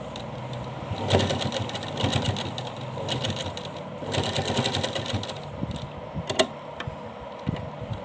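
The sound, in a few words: sewing machine stitching a dress bodice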